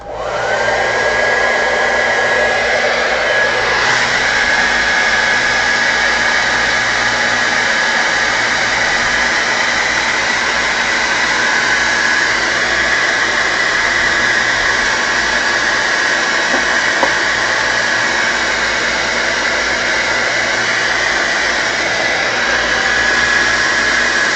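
A hair dryer blows steadily on fresh spray paint art, a loud, continuous, close whirring whine with a faint high tone that holds unchanged for the whole stretch.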